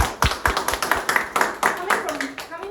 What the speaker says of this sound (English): Give applause to Joanne again